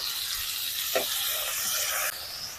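Chopped tomatoes hitting hot spice paste of chilli powder, cumin, turmeric and garam masala while cooking spiny gourd: a steady, close, bright sizzle and hiss with a brief stirring scrape, easing slightly near the end.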